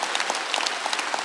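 Congregation at a Sunday church worship service applauding, brisk dense clapping heard up close and sustained throughout.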